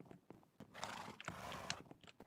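Horses in a stable in Minecraft, with a brief whinny and snorting amid soft shuffling and clopping noises, fairly quiet and without speech.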